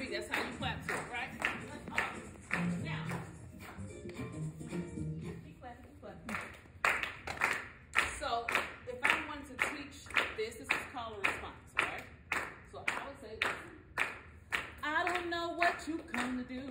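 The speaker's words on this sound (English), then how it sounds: "That's how you clap to it" Hands clap a gospel beat, first sparse under a speaking voice, then a brisk run of close, crisp, evenly spaced claps.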